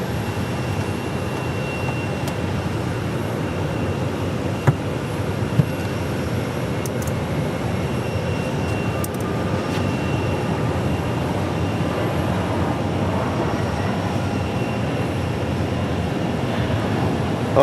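A passenger airliner lands on runway 25 left at Phoenix Sky Harbor Airport, a steady broadband roar that holds at an even level for the whole stretch, with a couple of brief faint ticks and no talking.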